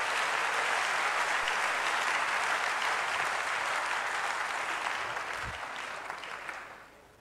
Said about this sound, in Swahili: Tumchapie Bwana makofi.